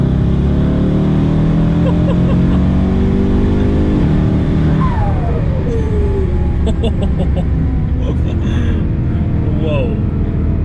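A 1,300 bhp biturbo Mercedes C63 AMG pulls hard under full throttle, its engine note climbing through rising sweeps with gear changes, loud and close from inside the cabin.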